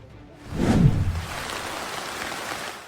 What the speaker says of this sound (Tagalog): bumuhos ang malakas na ulan sa Tagbilaran, Bohol